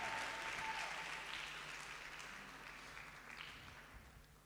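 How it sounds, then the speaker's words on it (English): Audience applause at a productivity workshop and expo, a full roll of clapping that starts strong and gradually thins and softens, heard at a low, distant level. "Please can we give another round of applause."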